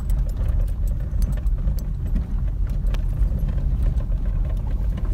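A car jolts over a potholed mountain road, its engine humming under a constant rattle and jangling of keys and loose parts with irregular knocks from bumps, close and steady.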